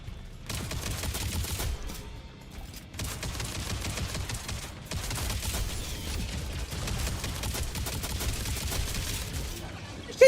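Gunfire in Planet Coaster 2 with the Sorcery Pack DLC, sustained bursts of shots that pause briefly and resume, loud and continuous across the stretch.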